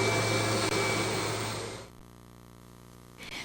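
Kirby G4 upright vacuum cleaner from 1993 with Tech Drive power assist, running with a loud steady whir that suddenly drops in level partway through, leaving a quieter motor hum before swelling again at the end.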